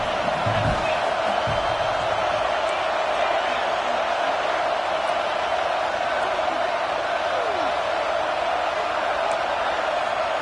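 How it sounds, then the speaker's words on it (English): A broad, continuous roar of a stadium crowd in the college football video game NCAA 26 fills the background, steady and loud, with a few sharp thumps early on and no clear voices. "the crowd really getting into it"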